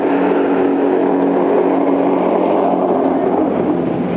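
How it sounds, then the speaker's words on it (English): A loud car drives past nearby, its engine roar steady and dense, filling the few seconds without a pause and no talking over it. "Hold on, really loud car."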